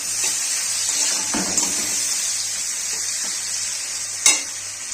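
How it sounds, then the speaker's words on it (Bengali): Steady sizzling of onions and green chillies frying in a pan as tomatoes are added, a constant hiss with a few soft scraping stirs and one sharper clink near the end. "পেঁয়াজটা ভাজা হয়ে গেছে এবার আমি টমেটোটা দিয়ে দেবো"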